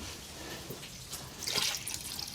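Water is poured into a pot over an outdoor fire for Crimean Tatar shorba soup, a short, faint splashing trickle that swells briefly toward the end.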